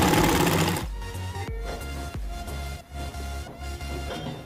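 A sewing machine stitches a neck strip onto a maxi dress, a close, steady mechanical hum with a fast stitching pulse broken by short stops.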